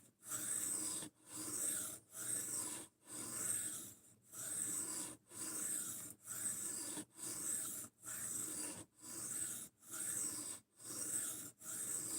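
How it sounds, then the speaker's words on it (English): Steady, rhythmic rasping strokes of abrasive on D2 steel during a high grit finish, about one stroke per second. Each pass has a bright hiss, repeated evenly and close up for the whole stretch. "So we're putting a high grit finish on D2"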